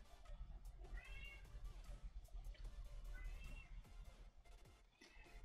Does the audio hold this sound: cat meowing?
yes